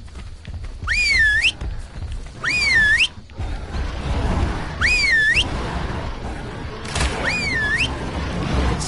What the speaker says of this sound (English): It's repeatedly whistling.